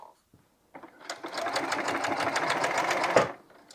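A domestic sewing machine runs steadily while stitching the seams of a scrappy quilt border, a close, fast mechanical whirring chatter lasting a few seconds before it slows and stops.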